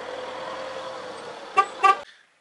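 Two short, loud car horn honks come close together after a stretch of steady engine rumble, and everything then goes quiet at a scout camp.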